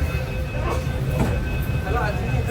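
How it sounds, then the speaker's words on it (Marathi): Nagpur metro train rumbling nearby with a steady low-frequency roar and faint wheel noise, continuous throughout with some background voices. "जस्ट मेट्रोमधून उतरला"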